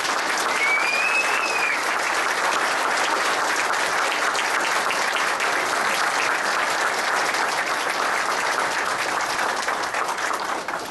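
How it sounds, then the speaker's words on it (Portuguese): Large audience applause for a speaker at a workshop, a loud sustained roar of many hands clapping that holds steady for about eleven seconds. "Gostaria aqui de uma grande salva de palmas"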